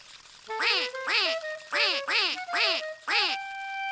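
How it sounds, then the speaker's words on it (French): A series of six bright, nasal cartoon duck quacking calls in steady rhythm, close and loud, each with descending harmonic sweeps, ending on a sustained tone. "les canards ne chantent pas, ils cancanent"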